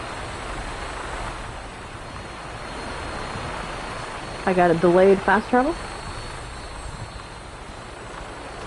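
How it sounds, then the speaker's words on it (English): In Fallout 76, a Vertibot aircraft engine gives off a steady, wide roar that runs under the whole stretch, while someone talks briefly over it. "we're getting some noise from the Vertibot"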